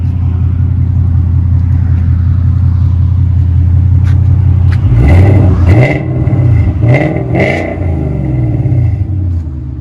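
A deep, throaty Ford Mustang GT 5.0L Coyote V8 exhaust idles with a low rumble, then revs sharply several times in quick bursts, loud and close.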